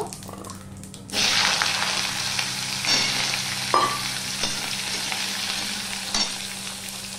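Cut, washed potatoes hit hot oil with cumin seeds for a vegetarian dhoka dish; a loud sizzle bursts up after a quiet second and settles into a steady crackling hiss with a few scrapes and clinks.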